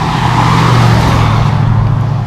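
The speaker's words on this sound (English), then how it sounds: "look at this Stang." A Ford Mustang passes on a road near a cyclist, a steady loud engine drone holding for a couple of seconds and easing slightly as it goes by.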